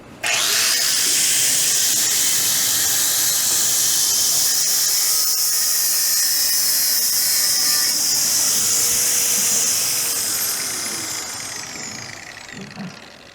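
An abrasive cutting disc on a power tool grinds steadily through material at a trade expo demonstration, a loud, harsh, continuous high whine that holds for about ten seconds before tapering off as the cut finishes.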